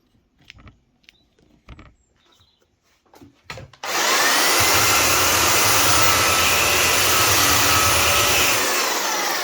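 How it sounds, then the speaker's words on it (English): A belt sander works across a piece of wood. After a few seconds of quiet knocks and handling, the motor starts with a loud, continuous whirring roar and grinding hiss that holds steady to the end. "You just let the belt sander do the work and keep passing over the wood in a slow, controlled fashion."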